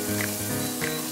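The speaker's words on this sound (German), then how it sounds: "Jetzt wird ja schön geröstet, das Ganze miteinander." Spices roast in a hot pan for dal, giving a steady, close, loud sizzle and crackle of frying that continues evenly throughout, with no talking.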